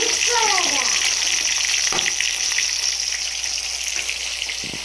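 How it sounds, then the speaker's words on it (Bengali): Prawns fry with red chilli pickle as the mixture is stirred in the pan: a loud, continuous close-up sizzle broken by a few sharp scraping clicks, with a brief falling tone at the start. "বড় বড় লাল লঙ্কার আচারটা এর মধ্যে দিয়ে ভালো করে নাড়াচাড়া করে মিশিয়ে দিচ্ছি।"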